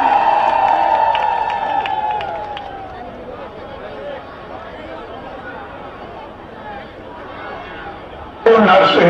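A crowd at a rally for Chief Minister Naveen Patnaik claps and cheers, with ululation and chatter mixed into a loud, sustained roar that fades slightly before a sudden louder burst near the end.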